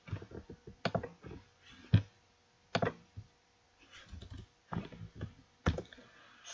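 Quiet, irregular bursts of keystrokes on a computer keyboard, with short clusters of clicks separated by brief pauses, alone and without talk.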